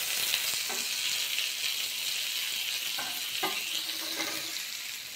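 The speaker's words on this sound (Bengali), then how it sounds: "বাকি বেগুনটা এবার ভাজা করে নেব।" Eggplant slices sizzle steadily in hot oil in a pan while an egg-and-eggplant dish cooks, with occasional scraping stirs and turning clicks over the continuous close frying hiss.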